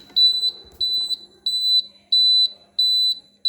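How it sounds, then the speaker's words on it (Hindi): A motorcycle turn-indicator buzzer gives evenly spaced pairs of sharp, high electronic beeps, about six pairs in a steady rhythm, close and clear over a quiet background. "साउंड सुनाता हूँ इंडिकेटर की,"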